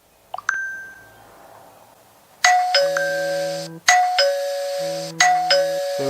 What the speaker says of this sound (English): Lee is going to go out and press the doorbell